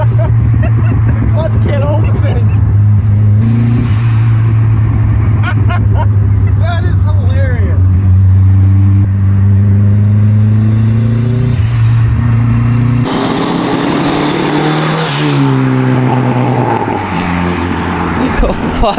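A turbocharged Chevy LUV truck revs hard with its clutch slipping, the loud engine climbing and falling in repeated pitch sweeps, then surging again, while people talk and exclaim over it.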